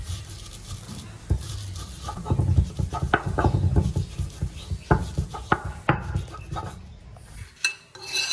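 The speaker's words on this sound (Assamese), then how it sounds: "এতিয়া তিলখিনি আমি পটাত পিচি লৈছোঁ।" Sesame seeds being ground on a stone grinding slab: repeated close knocks and scraping strokes of stone on stone in an uneven rhythm, fairly loud, with no speech.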